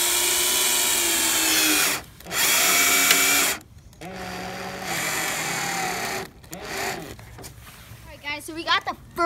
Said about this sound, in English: And he's gonna screw it with the screws.